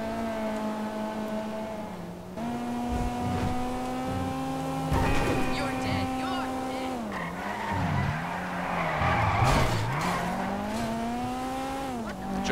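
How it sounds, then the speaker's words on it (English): A front-wheel-drive Dinka Blista Compact drifting in a video game, engine droning steadily while tires squeal and skid through turns, pitch rising and dipping, loud and continuous without talk. "Drifting front wheel drive."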